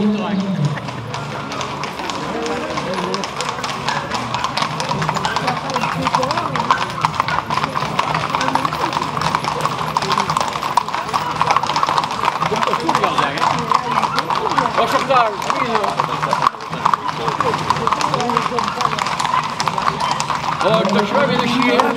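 A horse's hooves clip-clop continuously on the ground of a bullring arena during a bull event, loud and close, with a crowd and nearby voices talking throughout.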